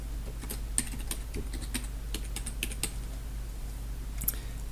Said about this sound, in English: And I'm going to type my password in again.